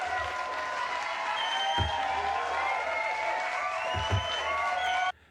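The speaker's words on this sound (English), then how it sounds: "Everybody, give him a round of applause." Applause and cheering from a live audience at a singer-songwriter's show, a steady, fairly loud crowd wash with a few low thumps, ending abruptly.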